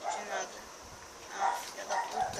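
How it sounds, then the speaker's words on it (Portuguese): Dogs bark intermittently in the background, a few sharp yelps spread out, while a person talks over them. "Desculpe pelos cachorros latindo"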